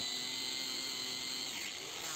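An angle grinder shapes the edges of glued wooden speaker parts, giving a continuous high-pitched whine and grinding drone that stays steady, close and loud throughout.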